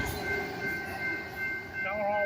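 A long freight train rolls past a road crossing, its steady wheel rumble and clanking wagons mixed with a sustained tonal hum, while people talk nearby over it.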